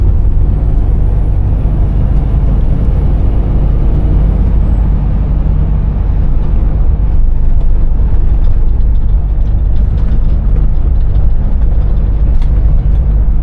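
A Scania V8 truck drives along narrow Shropshire country lanes. Its engine gives a loud, continuous, deep drone, with a brief whine fading early on and some mechanical clatter, and no talk.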